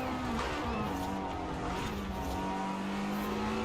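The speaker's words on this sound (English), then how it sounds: "It just barks when it hits that rev limiter." A Lamborghini Huracan Performante in Forza Horizon 4, its engine roaring steadily at high revs against the limiter, a dense, loud, continuous mechanical drone with no talk.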